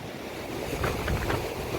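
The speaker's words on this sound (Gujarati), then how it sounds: "મસ્તીનો દરિયો છે ભાઈ" Sea waves wash onto the shore beside a seaside temple at Gadhda Bet, a steady rolling surf mixed with gusty wind noise, swelling slightly midway, with no voices.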